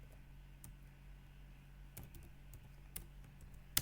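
Keys tapped at a computer keyboard while a username and password are entered, a few quiet, sparse clicks spread across a faint steady room hum.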